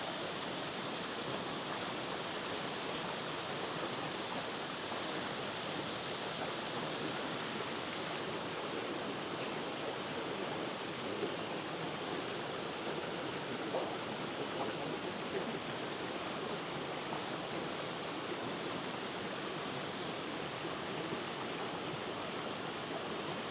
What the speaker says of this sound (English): Quite like the way the water's rushing down here.